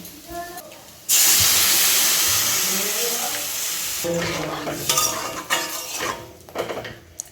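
A sudden loud hiss as water hits a hot pan of potatoes fried with chili and turmeric, a burst of steam that slowly fades, followed by clinks of a utensil against the pan.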